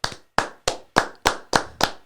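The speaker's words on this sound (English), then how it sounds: "Gotta clap it up." Hand clapping: seven sharp, close claps in a steady, slightly quickening rhythm, each one crisp and dry with brief silences between.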